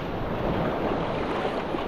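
Ocean waves wash steadily onto Casapsapan beach in Casiguran, Aurora, a loud, continuous rushing surf with wind buffeting the microphone and no voices.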